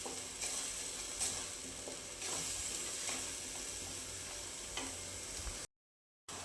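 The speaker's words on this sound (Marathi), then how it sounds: "कमी गॅसवरती मसाला आपल्याला परतून घ्यायचा आहे छान तेल सुटेपर्यंत परतून घ्यायचं आहे" Rajma masala spice paste with cumin powder sautéing in oil on a low flame, a soft, steady, fairly faint sizzle with occasional stirring scrapes, ending in a brief silence.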